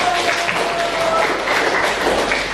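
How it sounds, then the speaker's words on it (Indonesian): Audience applause for group 1 in a classroom, a dense continuous patter of clapping from many hands, loud and close, lasting the whole moment. "berikan aplaus untuk kelompok 1"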